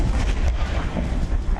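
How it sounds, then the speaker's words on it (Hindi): Explosions erupt on a highway during a massive fire in Surat, Gujarat, giving a dense, continuous low rumble and roar with booming surges throughout, loud and close. "इन धमाकों से दहल गया हाईवे"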